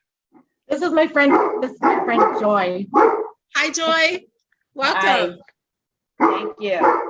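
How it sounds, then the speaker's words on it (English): A dog barks and whines in short bursts amid a lively indoor conversation, with people greeting each other and talking close by throughout. "And that's our dog."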